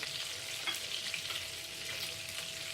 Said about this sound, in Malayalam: ഹോളായിട്ടുള്ള സ്പൈസസ് ഒക്കെ നമുക്ക് ഇതിനകത്ത് ആദ്യം ഒന്ന് മൂപ്പിക്കാനായിട്ട് ഇടാം